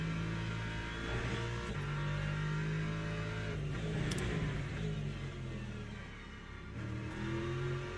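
Race car engine in the Le Mans Ultimate sim at Laguna Seca, revving and shifting steadily through the whole stretch, with tyres sliding and squealing faintly beneath the engine note; a short burst of higher noise rises near the middle.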